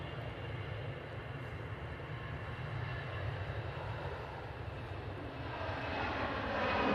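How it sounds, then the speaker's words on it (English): An EasyJet Airbus A320-200 departs Manchester Airport, its jet engines giving a broad, steady roar at a distance that builds louder toward the end. "So that EasyJet A320-200 is off to Paris, Charles de Gaulle."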